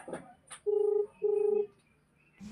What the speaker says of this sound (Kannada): ಇವಾಗ ನನ್ನ ಫ್ರೆಂಡಿಗೆ ಫೋನ್ ಮಾಡ್ತಾ ಇದ್ದೀನಿ,